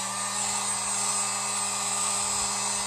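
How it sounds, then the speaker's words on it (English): A heat gun drying paint on a painted wooden truck cutout blows a steady, loud, unbroken whirring hiss with a constant motor hum throughout. "I'm just going to take my heat gun and dry it up"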